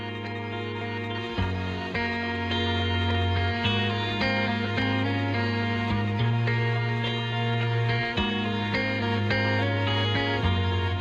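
A remixed version of the Hearthian theme from the Outer Wilds downloadable content plays as soft layered music with plucked, banjo-like notes over sustained tones, gentle and steady throughout, with no speech.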